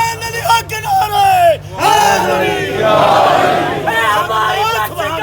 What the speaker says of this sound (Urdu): سلیمان علی کے نعرے